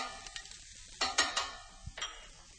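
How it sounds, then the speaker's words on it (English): Garlic added to a pan of browning mushrooms, with a soft sizzle and several bursts of stirring and scraping against the pan, close up and with no talk. "I'm going to add the garlic"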